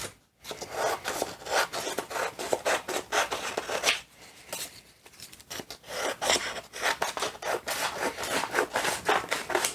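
Scissors cutting down canvas panels for a collage, a steady run of close, rasping snips and slices with a short pause near the four-second mark, no talking.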